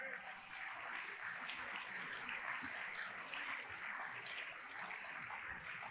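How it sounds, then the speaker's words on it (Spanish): A church congregation applauds in a sustained, even wash of clapping that runs for several seconds, fairly faint and distant. "Da un aplauso a Jesús"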